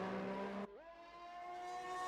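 A Formula 1 race car in a video game revs high during an out lap at the Belgian Grand Prix, then shifts down and its engine pitch climbs again in a smooth, steady whine.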